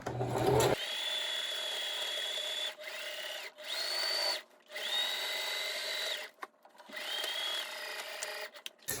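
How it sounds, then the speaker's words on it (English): A sewing machine stitches thick wool in fast, whirring bursts of zigzag stitching, stopping and restarting several times with brief pauses between runs. "now that we've done the zigzag stitch"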